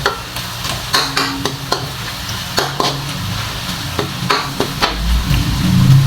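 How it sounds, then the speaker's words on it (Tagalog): Adobo (adobong puti, cooked with salt) frying in oil in a pan, a steady close sizzle with intermittent stirring scrapes and clinks, no talking. "Ipiprito natin siya kasi lemon."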